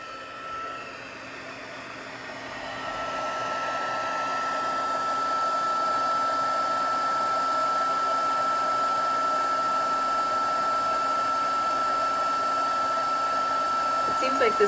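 A heat tool warms big blobs of embossing glue on a handmade birthday card, making a steady, loud whooshing blow with a constant whine that builds slightly over the first few seconds, then holds evenly throughout.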